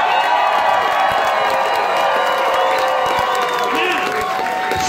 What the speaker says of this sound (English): So let's bow down and give this bitch a big round of applause.